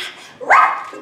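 A dog gives one sharp, loud bark close by, with nothing else around it.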